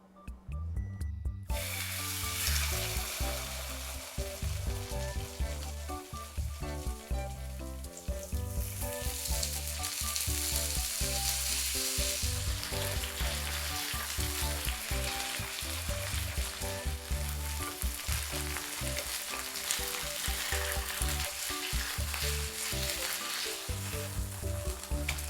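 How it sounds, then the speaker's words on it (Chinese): Thawed black pepper chicken pieces fry in an oiled pan with a loud, continuous sizzle and crackle lasting the whole stretch, over a faint tonal background. "解冻以后锅里放点油，直接放进去2面煎熟就行了"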